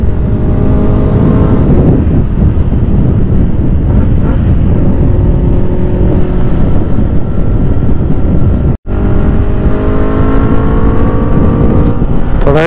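A Benelli 600i motorcycle cruises along a road, its engine a steady, loud hum heavy with wind buffeting the microphone, broken by a single brief dropout.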